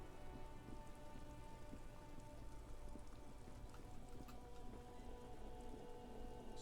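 Steady rain in the video game Disco Elysium, a soft, even patter of drops on surfaces that continues without letup, faint and ambient with no talk.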